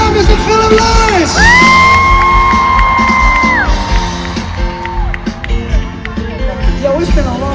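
A large concert crowd cheering and whooping at a live show in Bangkok, a loud sustained roar with long sung or shouted tones on top, fading into continued cheering.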